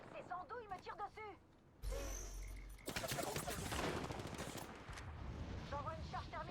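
Apex Legends gunfire: a burst of rapid shots breaks in after a short pause and continues as a dense rattling volley, with someone speaking French before and after.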